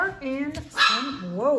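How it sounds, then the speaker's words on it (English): A little dog and a big dog bark and yip at each other in a heated spat, short sharp barks close by mixed with a person talking over them. "Excuse the dogs who are having apparently a very big argument."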